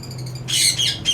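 Sun conure parrots in a breeding setup let out harsh, shrill squawks, two loud close bursts after a brief quiet start, with a faint low hum underneath.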